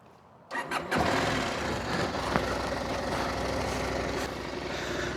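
Husqvarna Norden 901 motorcycle engine starting: a brief starter crank, then the engine catches and settles into a steady, throaty idle, close and fairly loud.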